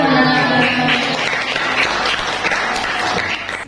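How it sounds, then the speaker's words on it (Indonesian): A classroom of children claps and applauds steadily and loudly for a few seconds after a presentation, the clapping dense and continuous with faint voices mixed in. "Tepuk tangan."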